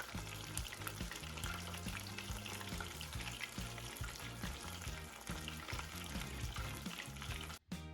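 Chicken nuggets frying in beef tallow, a loud, dense, continuous sizzle with crackling pops throughout, close up and without voices.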